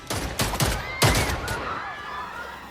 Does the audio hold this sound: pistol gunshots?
yes